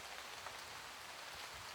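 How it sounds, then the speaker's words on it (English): Soft rain patters steadily on leaves and ground in an evening woodland, a dense even hiss of drops with no voices, fairly faint and continuous throughout. "The rain quietly begins to accompany our evening and wraps us in its pattering cloak."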